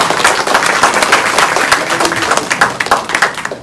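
Audience applause at a gathering following a speaker's introduction, a dense burst of many hands clapping nearby, loud and steady before gradually thinning out.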